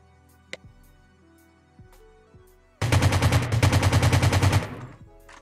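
AKM rifle gunfire in a Rules of Survival video game comes as a fast, loud automatic burst of about fifteen rounds, lasting nearly two seconds after a few quiet clicks and taps.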